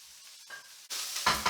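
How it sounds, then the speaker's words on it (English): Garlic and chili fry in a hot pan for a morning glory stir-fry, quiet at first, then a loud close hiss and sizzle bursting in with stirring. "add in your generous amount of garlic and chili. Let them release their flavours, cook them,"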